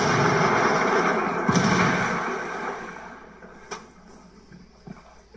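A frag grenade blows up in the open-world shooter Ghost Recon Wildlands, a loud, rumbling blast that fades away over a few seconds, with a few faint thumps following.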